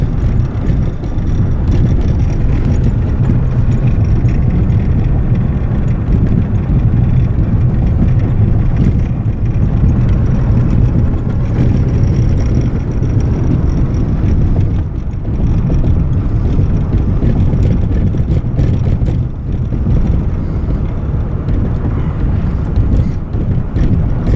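Steady wind rush and road rumble from a home-built electric Tesla conversion car under way, a continuous low drone with no engine note and no talking.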